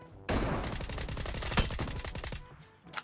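A burst of M16 rifle gunfire in a video game, rapid automatic shots rattling loud and close for about two seconds before dropping off, with a final single crack.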